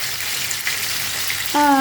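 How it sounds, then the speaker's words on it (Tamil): Steady sizzling of tomatoes, onions and curry leaves sautéing in a pan, continuous and close, with a brief tonal whine near the end. "தக்காளியும் வெங்காயம் கருவேப்பிலை மூணு வதங்கிட்டு இருக்குது"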